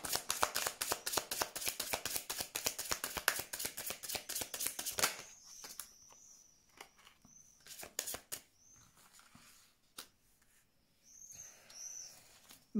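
Tarot cards are shuffled by hand in a rapid flurry of crisp riffling flicks that stops after about five seconds, followed by scattered soft card taps and handling sounds, with faint bird calls in the background.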